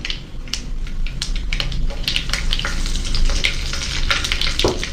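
Fenugreek seeds and curry leaves fry in hot oil for a brinjal curry, giving a steady close sizzle with crackling pops and stirring scrapes, and no talking.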